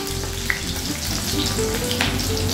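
Potatoes and green chilies fry in hot oil in a pan, giving a dense, loud, continuous sizzle close up, with faint crackles and no talking.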